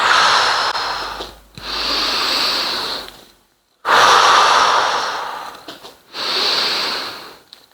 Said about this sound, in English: Exhale, and inhale back to parallel.